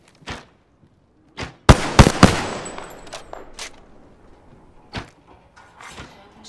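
Gunfire in the Apex Legends battle royale game cracks out in sharp, loud bursts: a couple of isolated shots, then a rapid cluster of blasts with ringing tails, followed by scattered further shots at varying distance.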